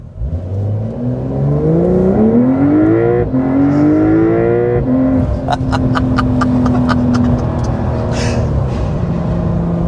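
A 2026 Porsche 911 Carrera 4S accelerates hard from inside the cabin, its engine note climbing steeply through quick gear changes, then settling into a strong steady drone with a run of sharp ticking clicks.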